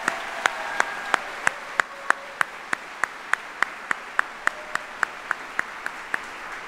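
An audience at a U.S. Army retirement ceremony in Conmy Hall, Arlington claps for an Army band in an even, rhythmic beat, sharp regular claps about three per second over a soft background.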